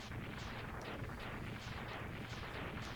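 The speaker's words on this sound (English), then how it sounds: "These explosions are just so long." Long boss-defeat explosions in the Mega Man X3 video game, a dense, unbroken stream of rapid crackling blasts that rolls on at constant loudness for the whole stretch.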